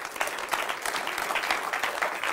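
A church congregation claps in praise, a dense, lively burst of applause from many hands close by, sustained throughout with no speech over it.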